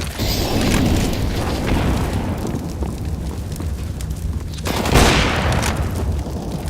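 Counter-Strike: Global Offensive round: dense gunfire and booming blasts fill the mix continuously, loud and close, with a heavy explosion swelling near the end.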